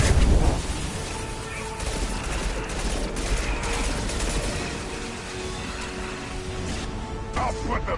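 Dense bursts of gunfire crackle through a Mass Effect firefight, continuous rattling shots with heavier impacts at the start and end, loud and close, with voices speaking under the shooting.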